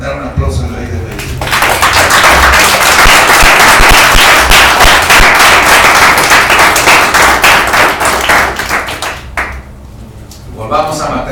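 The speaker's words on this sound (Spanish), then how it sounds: "Dar un aplauso al Rey de Reyes." A church congregation breaks into loud, sustained applause for the King of Kings, dense clapping that swells for several seconds and then thins out, with voices around it.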